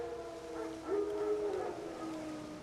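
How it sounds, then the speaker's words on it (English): Wild dogs howl in the Witcher 3 video game, a drawn-out tonal wail rising and sliding over a steady low game ambience, heard alone at moderate distance. "Wild dogs."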